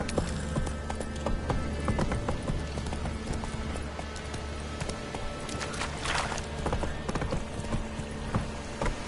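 Roach, a horse in The Witcher 3, gallops with rapid, continuous hoofbeats close by, mixed with clattering tack and other game sounds throughout.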